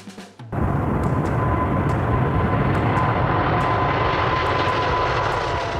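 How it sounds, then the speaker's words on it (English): Airbus A380-800 passenger airliner roaring past, a loud, steady broadband engine rush that starts abruptly and holds with a faint high whine, no voices. "A380-800 is the largest passenger aircraft in the world"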